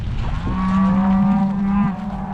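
Cattle and their calves moo in a long, loud, close call that holds steady for more than a second, heard outdoors in the English countryside.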